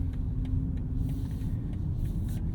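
A 2023 BMW M340i xDrive cruises slowly in Eco Pro mode, its steady low engine and road rumble droning close and even throughout, with no talk.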